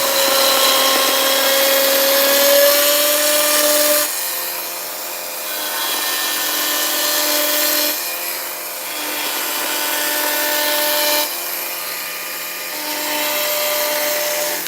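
A chainsaw engine drones loudly and continuously nearby during wood carving, its pitch shifting every few seconds as the throttle rises and eases.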